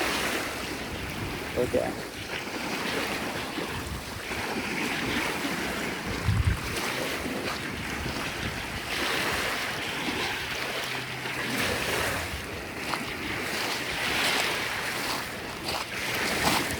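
Small waves wash up on a beach with seaweed along a sound, a broad rushing wash under wind noise, steady and fairly near, with a brief spoken word from a person walking.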